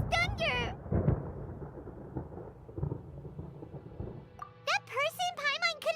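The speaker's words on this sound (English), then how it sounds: "Paimon hears thunder!" Rumbling thunder in the video game Genshin Impact, a deep rolling boom peaking early and fading over several seconds, framed by high-pitched character voices speaking before and after.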